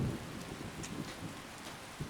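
Steady rain hisses softly in the video game Skyrim, with faint low rumbles of thunder underneath and a few brief louder spatters; quiet and ambient throughout.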